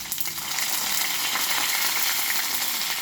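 Dried red chillies, green chillies and ginger sizzle in hot oil with a mustard seed and urad dal tempering for curd rice, producing a steady, loud, close hiss of frying with light crackles and no speech.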